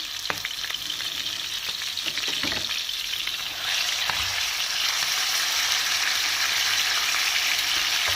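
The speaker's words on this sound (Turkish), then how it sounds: "Bunu soteliyoruz." Thinly sliced chicken breast, salted, sizzles steadily as it is sautéed in a hot pan, with a few clicks of stirring, the hiss growing louder partway through; no one talks.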